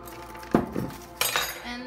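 A hefty tablespoon of chia seeds goes into a vegan smoothie in a blender jar, giving a couple of close clinks and soft rattles of a spoon against glass.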